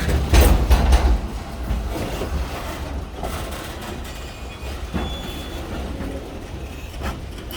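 A Kiamichi Railroad train moves along the tracks in Idabel, Oklahoma, with steady rumbling and clattering wheels and a heavy low engine throb, loud and close, with no talk.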